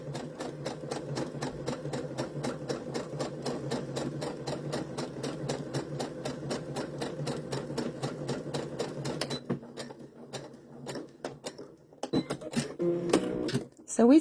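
A sewing machine chain stitches fabric pieces for quilt squares in one long steady run of rapid needle clatter, then stops and gives way to scattered handling clicks, with people speaking over the sound.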